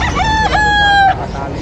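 A fighting rooster crows at a crowded market selling gamecocks, one long loud close call with a rising start and a held tone, then a fade into background market noise.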